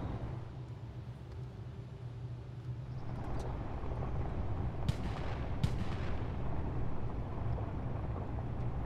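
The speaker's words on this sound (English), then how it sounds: "I was trying to take out the tree with my handgun" Handgun shots fired at a tree in a video game, two sharp cracks a little under a second apart over a steady low engine rumble, with no talk.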